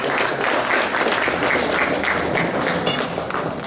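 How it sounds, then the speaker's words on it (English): Audience at a seniors' Christmas tea giving a burst of applause, loud and dense hand clapping from a crowded room that holds steady and then tapers slightly at the end. "So let's give Amanda a quick applause"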